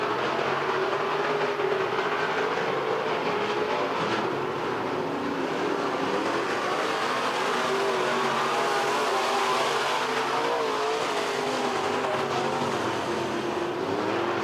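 A pack of Midwest modified race cars roars continuously around Lebanon Midway Speedway, a steady engine drone that rises and falls as the field passes, heard from the grandstand at a distance.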